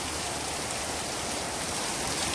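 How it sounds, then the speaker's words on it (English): Light rain falls outside a Florida orchid greenhouse, a steady, even hiss of drops on surfaces that stays constant throughout, with no voices. "And then there's just this little rain outside."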